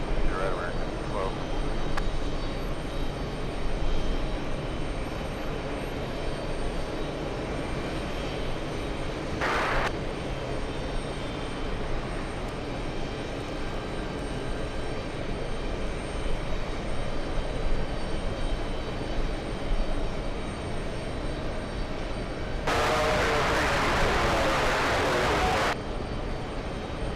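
Airliner jet engines roar at JFK airport, with a JetBlue flight among them, a steady distant drone for the whole stretch. Brief louder bursts break in once early and again near the end, and people talk over parts of it.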